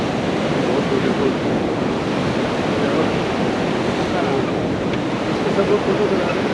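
Fast river water rushes beneath a bridge on the Kedarnath trek, a dense, continuous roar filling the scene at constant loudness with no letup.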